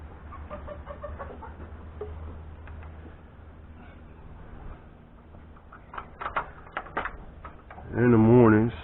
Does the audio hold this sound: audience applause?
no